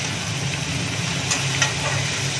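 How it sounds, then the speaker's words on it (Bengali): Vegetables and beans stirred in a frying pan for fried rice, a steady loud sizzle with faint scraping of the spatula throughout. "এবার আমরা এটাকে নেড়ে নেবো একটু"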